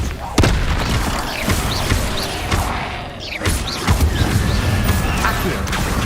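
An Incendio fire spell being cast in Hogwarts Legacy bursts out as booming, crackling blasts amid clattering game combat effects, with a voice talking over the action.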